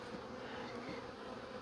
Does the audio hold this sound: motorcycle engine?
no